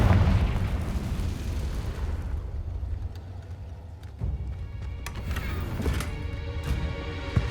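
A Confringo blasting curse in the Hogwarts Legacy video game bursts into a heavy rumbling explosion at the start, decaying into crackling debris, then a second smaller blast and sharp pops follow.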